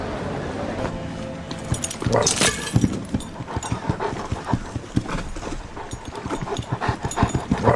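Dog panting and whimpering in a Hindi action film scene, rapid breathy bursts and soft whines repeating over several seconds amid footsteps and movement noise, fairly close and moderately loud.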